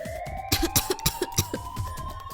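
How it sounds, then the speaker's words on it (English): Clover, a young woman in Nine Hours Nine Persons Nine Doors, coughs from smoke in a run of about six short, close bursts over a steady electronic drone. "she's coughing so hard she can't even talk"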